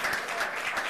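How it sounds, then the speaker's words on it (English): Brief burst of audience applause at a memorial service honoring a P.W. Moore High School class of 1963, a steady dense patter of many hands clapping at moderate volume with no voices over it. "Let's give them a hand clap of praise."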